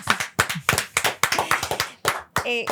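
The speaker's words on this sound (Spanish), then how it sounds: "Un aplauso para María." An audience claps for María, a guest on a talk program: a few sharp, irregular hand claps close by, with a voice rising briefly at the end.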